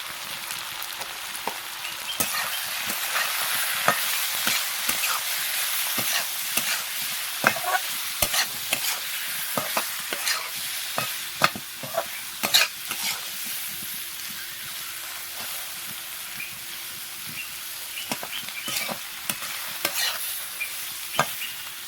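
Spices and turmeric, chili and cumin powders sizzle in a pan for a tilapia fish curry as a spatula stirs repeatedly, giving a bright hissing fry punctuated by frequent scraping strokes, close and continuous with no voices.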